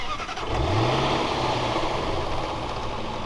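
A 2011 Range Rover Supercharged engine cranks and catches, rising in a quick rev before settling into a steady idle, close and clear with no talking.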